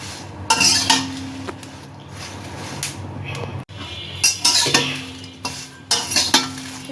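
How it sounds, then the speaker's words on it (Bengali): Very hot green chilies fry slowly in a pan, with bursts of sizzling and repeated scraping and clinking of a utensil against the metal, close by and in uneven strokes with short pauses. "মরিচগুলো আমি অনেক সময় ধরে মানে আস্তে আস্তে ভেজে নিলাম"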